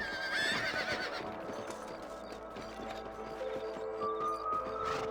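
Horses whinny and snort over steady clopping hooves and game ambience in Red Dead Redemption, continuous and fairly close.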